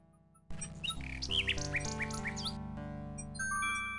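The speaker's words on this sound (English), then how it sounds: "The little bird makes a delivery." Chirps and squawks from a little bird in the video game King's Quest VI, a few bright calls over synthesized game music that plays throughout.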